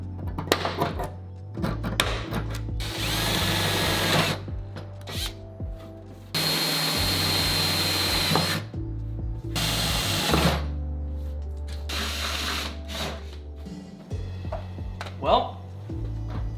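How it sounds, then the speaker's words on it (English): A power drill whines in several bursts of a few seconds each, drilling holes in car sheet metal to mount a spoiler, with clunks and handling noises between them and a low hum beneath. "Let's drill these holes and get this spoiler on."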